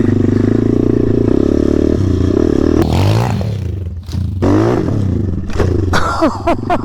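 A dirt motorcycle revs hard in first gear on a run-up to a jump, its engine droning loudly and steadily, then rising in pitch through quick surges with clattering and scraping near the end.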